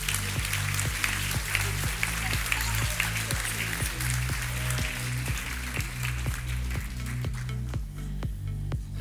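An audience at a Master's degree graduation ceremony claps as graduates and professors take their places, a broad steady applause sitting under a loud rhythmic musical beat that continues throughout.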